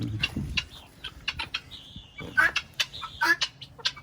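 Homestead chickens cluck and chirp in short, scattered calls at close range. Soft rustling and faint human voices sit in the background.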